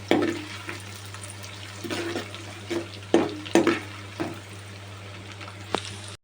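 Small dried fish fry in a pan with a continuous close sizzle, broken by several sharp scrapes and clatters from stirring.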